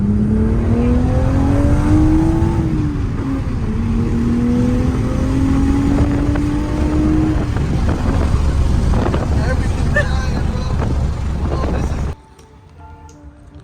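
A 2023 Toyota Supra 3.0 manual fitted with a CTS intake accelerates hard in second gear, its loud engine note climbing steadily with wind rush, then cutting off abruptly near the end.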